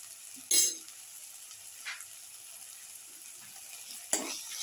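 Turmeric powder stirred into a frying pan of oil for a garlic eggplant potato casserole, quiet sizzle with a few brief sharp scrapes and clinks of the spoon against the pan.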